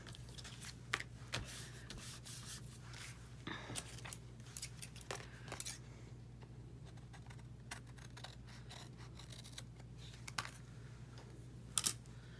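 Paper-cutting sounds come from trimming a piece off an index card: faint, quiet snips and rustling handling of the card in a hushed room, with scattered small taps.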